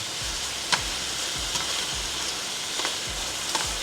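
Meat sears in hot oil in a pot for birria tacos, a steady close sizzle broken by soft thumps and occasional louder crackles.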